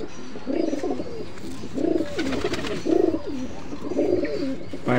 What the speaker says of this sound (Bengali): এটা একটি নর কবুতর